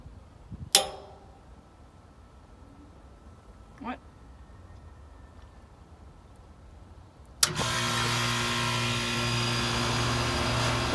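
A Carrier heat pump with its access panel removed starts up abruptly after a few quiet seconds with faint clicks, then runs loud and steady with a broad whooshing hum and rattle.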